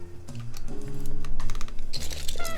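Fast clacking keystrokes on a newly built beige keyboard, a dense run of close, crisp clicks against a low background hum, with no voices over them.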